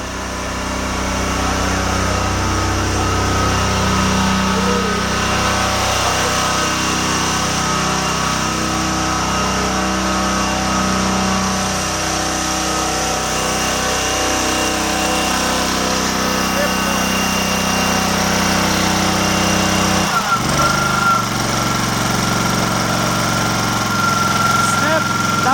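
Prowler 13hp truckmount carpet-cleaning engine running steadily at close range, a continuous loud drone with a brief dip and change around two-thirds of the way through.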